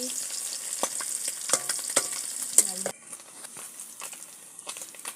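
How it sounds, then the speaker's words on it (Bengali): Fish fry in hot oil in a pan, a steady crackling sizzle throughout, with clacks and scrapes of a utensil turning the pieces, louder in the first half and softer afterward. "মাছ লাল লাল করে ভেজে ভেজে নিচ্ছি"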